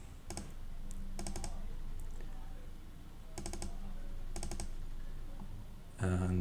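Computer mouse clicks made while uploading a file, heard as a few short, sharp clusters spaced a second or two apart in a quiet room, with a louder click burst at the very end.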